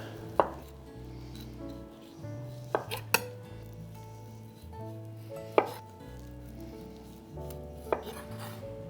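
A knife works against food on a board while the skin is peeled off, giving sharp scattered clicks and taps over a faint background musical drone.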